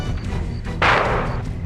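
A single heavy gunshot rings out during a shootout in a Hindi TV crime drama, a sharp booming burst over a low, continuous rumbling background.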